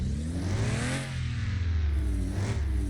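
A BMW car engine from downloadable content in a driving video game revs up and down through its range, a loud continuous mechanical whine that rises, dips briefly and climbs again.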